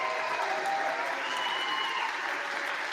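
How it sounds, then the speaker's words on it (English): Applause rises in the U.S. House chamber for Kevin McCarthy during the Speaker vote, a broad sustained clapping from a large crowd with faint murmurs and whistles mixed in. "They all applaud as Kevin McCarthy gets ready to lose for the 10th consecutive time"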